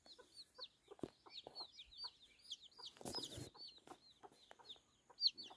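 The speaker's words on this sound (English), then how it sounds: "Her chooks." Chickens cluck softly in a farm yard in Maromaku, a run of quiet, repeated chirpy clucks with a few faint thumps nearby.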